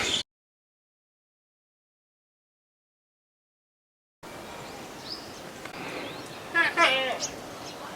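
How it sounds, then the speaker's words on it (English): A tethered mother goat bleats a few drawn-out cries in the Indian countryside near Orchha. The cries are moderately close and rise over a steady outdoor background with faint birdsong, and silence comes before them. "Mother goat who's tethered up, complaining"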